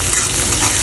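Softened onions are stirred in a hot pan, giving a steady close sizzle and frying hiss with faint scraping, continuous and even throughout.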